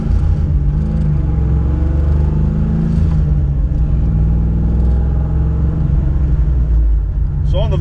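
An LT1 car engine swapped to run on an LS 411 PCM idles smoothly with a steady, loud, continuous rumble and hum close by, with no speech over it.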